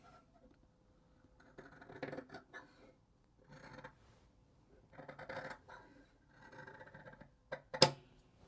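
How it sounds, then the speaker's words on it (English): Scissors cut fabric for a kimono dress neckline in short, quiet bursts of snipping and sliding, with a sharper click near the end, faint and close in a still room. "Get out your scissors and cut."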